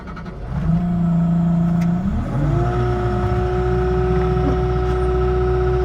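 A skid steer's diesel engine cranks and catches, then settles into a loud, steady idle whose drone rises in pitch partway through and holds there, close by.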